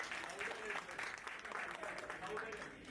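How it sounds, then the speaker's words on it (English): A hall audience applauds a keynote speaker, Dr. Kunal Anand, at a school event, with faint, steady clapping and an announcer's voice over it. "Can we have a bigger round of applause?"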